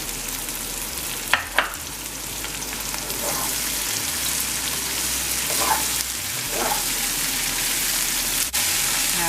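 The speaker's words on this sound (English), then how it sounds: "Now we're gonna continue to fry the okra until the okra is brown." Okra frying in oil with onion and salt, a steady dense sizzle throughout, with a few light clicks of stirring, close and continuous.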